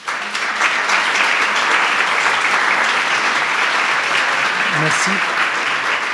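An audience applauds the visiting Kogi delegation in Grenoble with sustained, dense clapping that fills the room steadily, and a brief voice is heard near the end.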